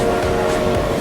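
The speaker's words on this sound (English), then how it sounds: "I hear the train" Train passing by in the Forza 4 racing video game, a loud, dense rolling roar with a sustained tonal hum, brief and continuous with no talk.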